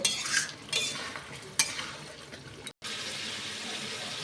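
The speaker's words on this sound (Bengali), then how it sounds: "আমি আরও কিছুক্ষণ এই মশলাটাকে একটু ভালো করে কষিয়ে নেব" Masala spice paste frying in oil in a pan for Bata fish curry, a steady soft sizzle under repeated scraping stirs of a spoon against the pan, with a brief break near the end.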